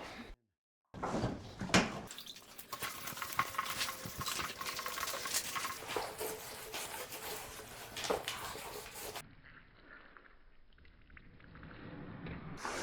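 Water splashes and patters onto plywood in a continuous, close spray, then stops, leaving quieter dripping and handling noises.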